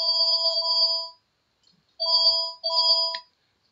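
A telephone rings loudly and close, an electronic trilling tone in two longer bursts and a shorter one, with brief silent gaps between and no talking.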